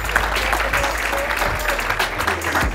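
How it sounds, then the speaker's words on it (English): Steady applause from a ComplexCon panel audience fills the whole stretch, dense and continuous with some cheering mixed in, no pauses. "y'all make some noise for Ronnie Fieg"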